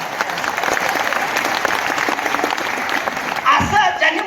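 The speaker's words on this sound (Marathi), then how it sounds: "त्यांच्यासाठी एकदा जोरदार टाळ्या झाल्या पाहिजे" A wedding audience gives a sustained burst of dense clapping for a man who went from stone-breaker to BMW X5 owner, the applause steady and loud throughout with a slight swell near the end.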